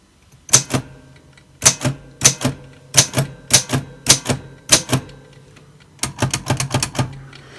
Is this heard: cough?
no